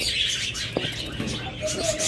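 A pair of red-eyed creamino pigeons gives soft, low cooing calls, close by and fairly faint against a steady background hiss, with a couple of brief murmurs standing out.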